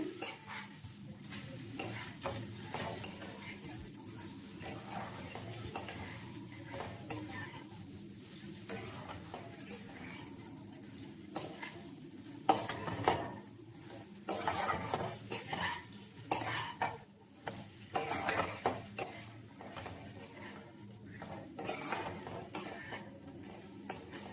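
A spoon stirs an elephant foot yam and shrimp curry around a pan, scraping and clinking steadily with faint sizzling underneath, growing busier and louder in the second half.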